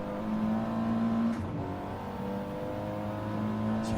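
Race cars in a racing video game lap the Grand Valley track, engines droning at steady pitch with a shift and a whoosh as cars pass, continuous and close.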